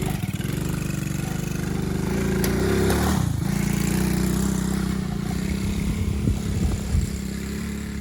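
A 110cc quad bike engine buzzes continuously at close range while drifting in circles and climbing a hill, the revs dipping once and then rising again, with uneven throttle bursts.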